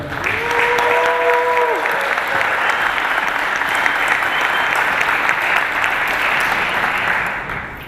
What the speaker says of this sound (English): I would like a big round of applause for everybody here